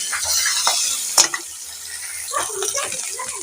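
Bengali fish curry with cut fish pieces sizzling in a pan, a close crackling hiss with a sharp splatter burst around the middle before it settles into a softer sizzle.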